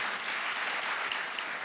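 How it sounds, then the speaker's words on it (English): Steady applause fills a chamber of commerce luncheon honoring Maryland Governor Wes Moore, a dense, even wash of many hands clapping throughout with no talk over it. "That deserves an applause as well."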